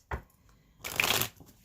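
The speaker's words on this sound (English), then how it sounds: "All right, one more shuffle for you," A soft tap followed by a quick, close riffle of a deck of cards being shuffled, fairly quiet with no talking.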